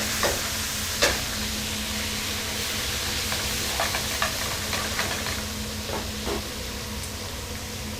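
A butter sauce is stirred in a pan, with a steady sizzling hiss running throughout and several sharp utensil scrapes and clicks scattered across the stretch, close up and without talk.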